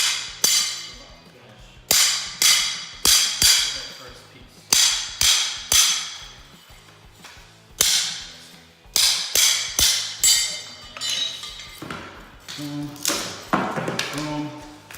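A pry bar levering up carpet tack strips and stubborn nails from a floor: a rapid series of sharp, loud cracks and snaps, some in quick clusters, close by, with creaking strain between the hits.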